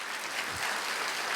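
Congregation at a Korean church festival clapping hard, a thick continuous patter of many hands at close range, loud and steady throughout the short burst.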